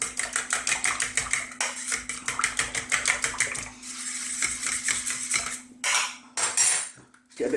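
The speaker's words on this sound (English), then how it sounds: "Let's just give this a mix." A whisk or spoon clatters rapidly against a bowl while mixing an olive oil, lemon juice and grated lemon zest dressing, a fast rhythmic metallic clinking that pauses briefly, then returns in a few short bursts.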